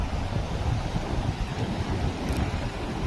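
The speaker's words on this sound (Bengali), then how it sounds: "প্রচুর ঢেউ।" Strong sea waves surging onto a Goa beach, a continuous loud broadband roar of surf mixed with wind buffeting the microphone, steady throughout with no pauses.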